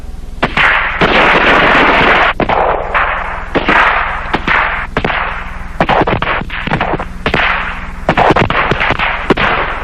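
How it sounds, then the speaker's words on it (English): Loud, close bursts of repeated gunfire at a 1981 JDL training camp, many sharp shots in irregular clusters with reverberant echo rolling between them, no voices. "Commence firing."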